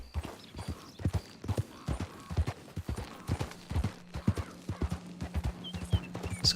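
A horse in the video game Red Dead Redemption 2 trots with steady, rhythmic hoof clip-clops, each beat clear and close, over a faint background hum. No one speaks.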